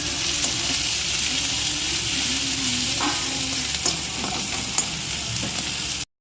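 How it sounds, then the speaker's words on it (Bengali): Onion, curry leaves and chilli sizzle steadily while frying in a pot for handi chicken, with occasional scraping stirs and light clinks over the continuous hiss, close and fairly loud throughout. "পেঁয়াজটাকে দিয়ে একটু লাল লাল করে ভেজে নিতে হবে"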